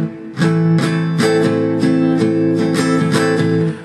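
Acoustic guitar strumming the chords of a song in a steady down-down-down, up-up-up-up, down-up-down-up pattern with no hammer-on, crisp repeated strokes ringing close and clear on their own.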